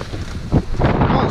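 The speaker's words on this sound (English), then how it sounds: "I think we've got about 16, 17, 18 knots of wind" Strong wind of about 16 to 18 knots buffets the microphone on a sailboat under sail, a loud, steady roaring gust that swells midway and keeps blowing to the end.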